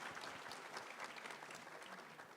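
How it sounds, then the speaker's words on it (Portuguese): An audience at a talk applauds in a continuous, even patter of many hands clapping at once, heard from a distance at fairly low volume without speech over it. "Salve de palmas, pessoal."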